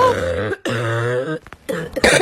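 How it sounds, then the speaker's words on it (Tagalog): A loud, raspy cough bursts out twice, with short gaps between, close to the listener and with no other sounds around it. "ang crunchy ng ubo mo ha, crispy"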